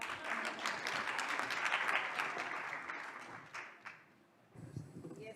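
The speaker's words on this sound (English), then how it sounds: "A hand clap for me, guys." An audience at a panel session on long-acting health solutions claps steadily for several seconds, a dense patter of many hands that gradually thins and fades, followed by faint room noise and a few soft knocks.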